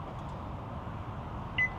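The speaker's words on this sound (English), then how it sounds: "You hear it beeping." A single short electronic beep near the end, over a steady low background hum, from a Tesla Supercharger charging a 2026 Chevy Equinox EV through an adapter.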